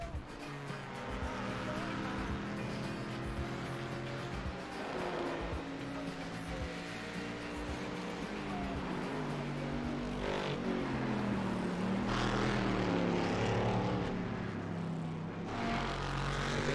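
Race car engines from the iRacing sim, GT1/GTE class cars at Spa, drone steadily and loudly throughout with shifting pitch as cars pass, while a commentator talks over them.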